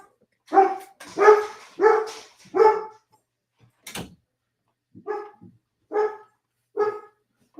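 A dog barks in two separate runs indoors, four loud barks in a row, a short pause and a thump, then four more barks, close and clear.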